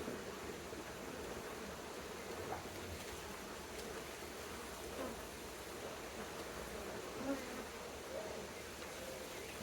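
Honeybees buzz steadily around an open hive during a beekeeping inspection, with swarm cells present. The hum is soft and continuous, with occasional faint clicks and handling sounds and no talk.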